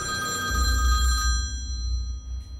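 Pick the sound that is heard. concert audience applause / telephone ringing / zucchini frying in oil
telephone ringing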